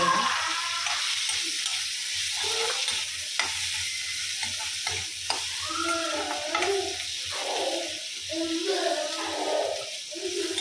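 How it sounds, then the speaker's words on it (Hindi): Chopped onion and tomato sautéing in hot oil in a pan, a steady close sizzle throughout with scraping stirs, under someone speaking Hindi. "अब इसको हम हल्के से ऑयल में सॉटे करते हैं"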